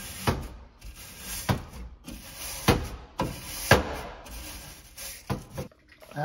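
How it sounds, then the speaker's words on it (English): Brush scrubbed downward over fragile aluminum evaporator coils indoors, giving a series of soft, close scraping strokes about once every second, with quiet pauses in between and no talking. "You want to start from the top with your brush and then go down, up to down."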